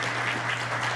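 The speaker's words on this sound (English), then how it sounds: "Let's give her a round of applause." Audience applause at a state spelling bee for the crowned champion, a steady wash of clapping from a hall crowd, moderately distant and even.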